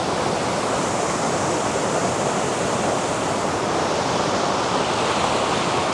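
Kondeshwar waterfall near Badlapur pours in a steady, full-bodied roar of rushing water, constant and close, with no voices or breaks.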